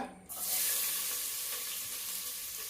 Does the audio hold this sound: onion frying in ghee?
yes